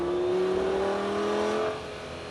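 Lamborghini Gallardo on a race track, its engine note a loud, steady drone that swells slightly as throttle is fed in progressively, then eases off near the end.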